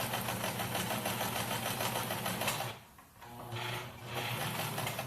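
A sewing machine stitching a pleated fabric face mask, running as a loud, steady close whir, briefly pausing and slowing near the middle before resuming.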